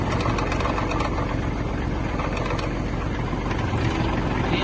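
A Kubota GL-21 Japanese mini tractor drives in first gear, its engine a steady, loud, dense low-pitched diesel rumble that continues unbroken throughout.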